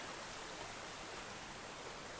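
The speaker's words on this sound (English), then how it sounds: "the creek just kind of wraps around" A creek wrapping around a secluded riverside campsite flows with a constant broad rushing wash, steady and fairly close, with no voices over it.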